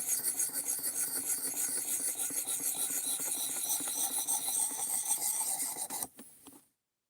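Steady, close rasping of a blade worked in circular strokes across sharpening stones, with a dense, continuous scrape that stops abruptly near the end, no voices.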